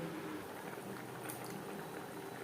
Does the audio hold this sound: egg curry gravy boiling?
yes